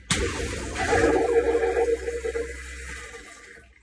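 A toilet without a bidet function flushes with a sudden rush of water that gurgles and swirls loudly, then fades as the bowl refills.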